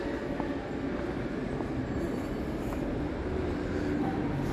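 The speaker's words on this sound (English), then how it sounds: "And there is my train." Continuous low rumble of a train idling or rolling slowly at Birmingham Moor Street station, a dense mechanical hum filling the space with faint metallic clicks, no speech.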